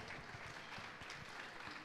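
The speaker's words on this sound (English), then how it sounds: "Let's give him a warm round of applause." Steady applause from a crowd at a Philippine book launch, a continuous wash of clapping at even volume throughout.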